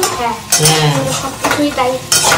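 Okra frying in a hot pan while being stirred, a steady sizzle broken by several short scraping strokes of a utensil against the pan, close and fairly loud, with no voices.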